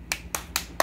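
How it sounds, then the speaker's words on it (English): Four single sharp claps spaced evenly, each a crisp close slap with quick decay, given by a young student finishing an online social studies exam at home; no voices between them. "Give yourself a clap."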